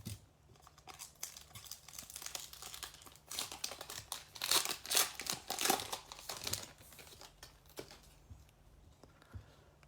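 A wrapped pack of 2021 Topps hobby baseball cards being torn open up close. The wrapper crinkles and rips in dense, busy bursts that swell to a peak midway and then ease off, with no voices.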